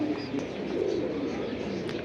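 Pigeons coo softly and repeatedly at close range in a loft, with a few faint chirps and background murmur, no speech.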